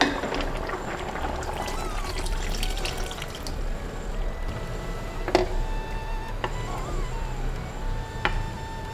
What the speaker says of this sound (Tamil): நம்ம இதில் இப்போ புளி தண்ணி ஊற்றிடலாம்.